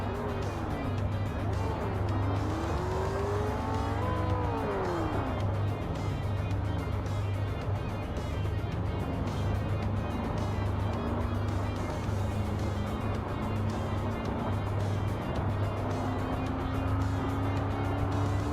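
A Ford Falcon race car in the Project Motor Racing sim, its engine droning steadily at close range and rising and falling in pitch through shifts and corners for the whole stretch, with a low rumble underneath.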